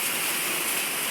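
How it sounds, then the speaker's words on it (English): Steady, dense hiss of heavy rain pouring down without a break, loud and close with no voices. "apologize for the noise of the rain."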